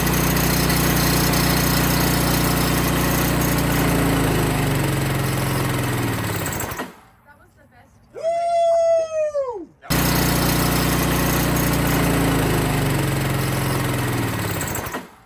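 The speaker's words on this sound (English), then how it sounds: "now there only leaves one motor still running, and that is the PROLUBE Oil Treatment motor." Engine running under Prolube oil treatment in a self-destruct oil-additive test, a loud steady mechanical roar through most of the stretch, cut by a brief gap carrying a rising and falling whine before the roar resumes.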